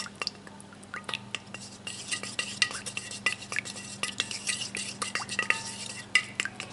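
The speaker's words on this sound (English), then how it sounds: "so I just kind of stir it, and it's still not quite ready" A utensil stirs shea body butter in a bowl, with quick repeated scrapes and light clinks against the sides in a busy, irregular rhythm over a low steady hum, close and moderately quiet, no talking.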